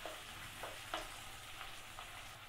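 Onions fry in a pan for chilli paneer, giving a soft, steady sizzle with a few faint stirring scrapes spaced through it, quiet and with no talking.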